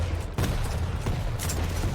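Rocket fire in a Quake Pro League match, with several sharp blasts and booms over a constant low hum, loud and close, with no talk.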